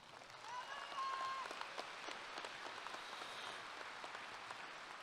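Applause at a 2023 Naaman Forest High School graduation ceremony as a graduate is recognized; a broad, faint, even wash of many distant hands, steady for several seconds, sounding almost like rain.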